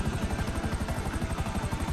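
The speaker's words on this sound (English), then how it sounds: "Why is this helicopter going so freaking low?" A helicopter in GTA V Online flies low overhead, its rotor chopping in a fast, steady, loud pulse that fills the whole stretch with no talk over it.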